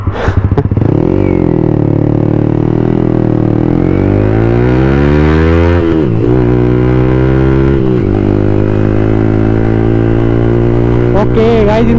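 A Yamaha R15 V3 motorcycle carrying extra passengers, its engine droning loud and close, with pitch rising and falling through gear changes and steady riding.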